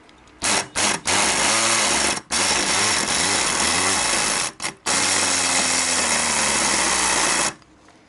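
Electric bump gun running against a Mul-T-Lock Interactive high-security lock, a loud close buzzing motor rattle in several sustained bursts separated by short stops, the pitch sagging as the machine struggles.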